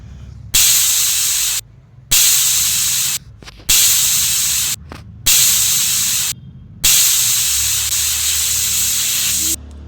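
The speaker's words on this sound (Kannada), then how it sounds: "ಕುಕ್ಕರ್ ಲಿಡ್ನ ಕ್ಲೋಸ್ ಮಾಡಿ ಐದರಿಂದ ಆರು ಬಿಸಿಲನ್ನ ಹೊಡೆಸ್ಕೊಂಡಿದ್ದೀನಿ" Pressure cooker whistle releasing steam while cooking sprouted-gram khichdi, five loud hissing bursts separated by brief silent gaps, close and alone.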